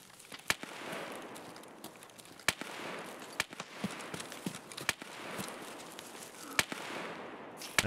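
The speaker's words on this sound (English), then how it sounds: "That's someone shooting" Distant gunshots in Escape from Tarkov (SPT), scattered sharp cracks at irregular intervals over a low ambient background, some louder and some faint.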